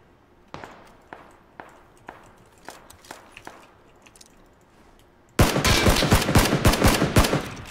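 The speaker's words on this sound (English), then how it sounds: "Somebody was shooting at him from over the hill though." PUBG gunfire: evenly spaced single shots crack about every half second, then a loud, rapid automatic burst erupts and continues to the end, close and dense.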